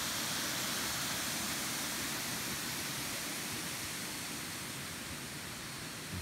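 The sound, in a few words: jungle waterfall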